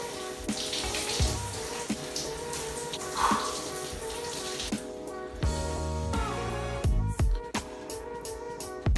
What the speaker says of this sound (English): I'm gonna have to hop in the shower real quick